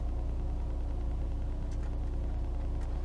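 Steady low engine rumble from a 1999 Volkswagen Beetle GLS with the 2.0-liter four-cylinder and 4-speed automatic while driving, heard as a continuous, even drone inside the cabin with no speech.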